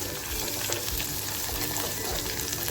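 A masala paste of garlic, chilli and coriander roasting in a pan on a low flame gives a loud, dense, continuous frying hiss, close up and without a break.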